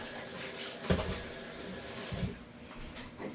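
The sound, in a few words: water from the sink tap rinsing a cheese grater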